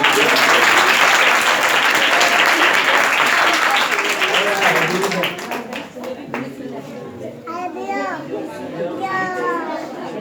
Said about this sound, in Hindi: तालियां दें जी।